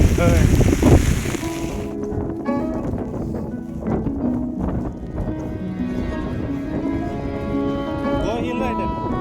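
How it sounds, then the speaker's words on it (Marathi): Strong wind buffets the microphone in a loud roaring gust for the first two seconds on the Masai plateau trek after rain, then eases while people talk. "चला खूप वारा आहे"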